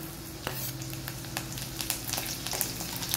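Green chillies dropped into hot oil with cumin and garlic, crackling and sizzling steadily up close, with a few sharp pops and spatters and no talk.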